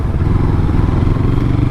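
An SM Sport SM3 400 cruiser motorcycle with a fuel-injected inline two-cylinder 378 cc engine, giving a loud, close, steady low engine drone with wind rush for a brief moment while riding.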